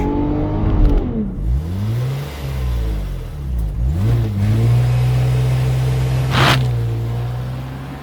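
A stock Lexus IS200 launches in a 0-100 km/h acceleration test: the engine revs, drops briefly, then climbs steadily through rising revs in a loud, close run, with a short gear-change dip partway through.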